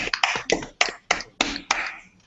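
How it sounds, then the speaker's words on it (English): A studio audience claps in a live game show, sharp slaps and snaps arriving in about eight loud, spaced bursts over a couple of seconds, with no talking. "And congratulate India with a clapping of our hands."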